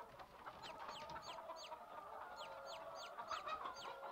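Chickens cluck and peep in repeated short calls on a farm in Landwirtschafts-Simulator 17, faint and somewhat distant over a steady background hum.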